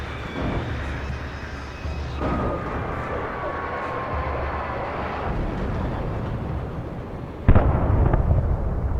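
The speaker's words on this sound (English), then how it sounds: "That explosion could be heard from miles on end." A deep explosion in the video game Alan Wake Remastered booms and rumbles on, with a sharper blast near the end and continuous low roaring debris noise.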